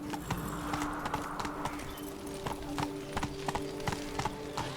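Roach, the horse in The Witcher 3, clip-clops along with a steady, even rhythm of close, distinct hoofbeats over a low ambient bed.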